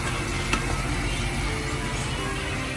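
Food cooking in a pan on a home stove sizzles steadily and loudly, with continuous stirring and scraping close up and a single sharper clink partway through.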